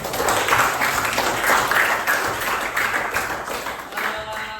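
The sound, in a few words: classroom applause for the students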